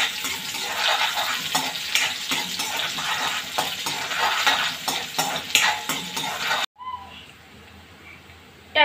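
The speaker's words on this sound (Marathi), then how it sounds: "एक मीडियम साईजचा कांदा, याला 2 मिनिट आपण परतून घेऊया।" Onion and garlic sauté in a pan, sizzling steadily as a spoon stirs and scrapes against the metal, before the sizzling drops away near the end.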